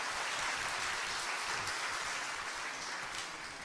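A church congregation applauding after a baptism during a Sunday service, steady, dense clapping from many hands heard at a moderate distance, continuous throughout without any voices.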